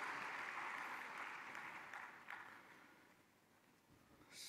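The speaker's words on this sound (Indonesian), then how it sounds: "Mari kita beri tepuk tangan untuk Bapak Ibu yang bersiap menandatangani kredit." Quiet applause from an audience at a government credit-signing ceremony, a soft wash of clapping that gradually dies away, with a brief burst near the end.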